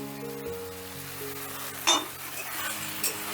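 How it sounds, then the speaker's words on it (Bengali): Tomato paste and spices frying and being stirred in a pan for a Bengali katla kalia fish curry, a steady close sizzle with occasional louder scrapes and clinks of the spoon against the pan. "এবার টমেটো বাটাটা দিয়েও আমি মিনিট দুয়েকের মতো কষে নেবো"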